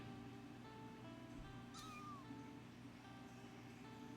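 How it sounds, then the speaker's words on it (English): A small kitten in a video game mews once, a short rising-then-falling cry near the middle, over a steady hum of game background music. "A little kitten flails as it awkwardly runs over and mews up at me."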